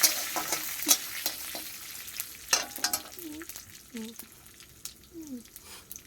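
Panch phoron spices sizzling in hot oil for dal, a fine crackle with sharp scraping stirs early on, while a person talks over the frying.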